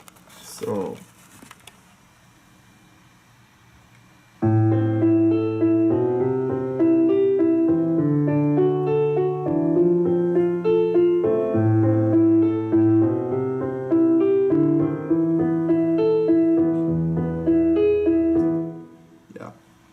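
Piano part of a House of the Rising Sun arrangement: after a moment of faint handling noise and quiet talk, a steady arpeggiated piano pattern with a low bass line plays for about fifteen seconds, clear and fairly close.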